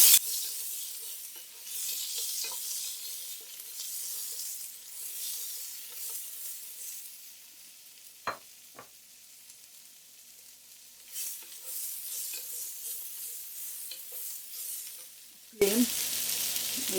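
Chopped onions sizzle and fry in oil in a pan for a Punjabi chicken curry, a steady soft hiss with a few stirring scrapes and a sharp clatter near the end.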